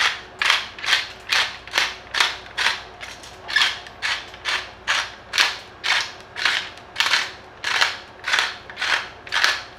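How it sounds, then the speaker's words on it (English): A ceramic pepper grinder crunching peppercorns over a pot of split pea soup, a rapid regular series of close, dry grinding bursts, about two per second, with no talking. "This is an actual pepper grinder. This is a ceramic grinding wheel."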